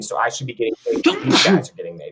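A single sharp sneeze bursts out in the middle of a man's speech, loud and close, with talking continuing right before and after it.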